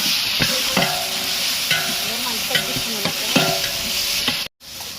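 Masala sizzles steadily in a pot for biryani while a spoon stirs and scrapes repeatedly, producing clear rhythmic scraping strokes over the frying.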